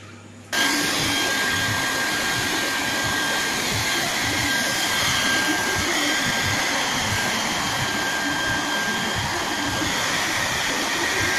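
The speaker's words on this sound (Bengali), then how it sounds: "চুলটা একটু ড্রায়ার দিয়ে শুকিয়ে আঁচড়ে নিলাম" A hair dryer blasts steadily while drying hair, a loud, continuous whooshing roar that switches on abruptly and runs unbroken to the end with no talk.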